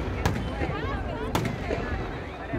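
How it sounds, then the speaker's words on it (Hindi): Fireworks and firecrackers at a Ravan Dahan festival on the Polo Ground in Mount Abu, a few sharp cracks and bangs over a steady roar of burning and crowd noise, while someone talks. "क्या गजब आतिशबाजी है"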